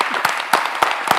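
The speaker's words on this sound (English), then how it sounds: "I hope that was applause for me." A small group applauds at a Franklin County, Washington commissioners meeting. The clapping is a steady, close wash with a few sharper claps standing out, heard alone.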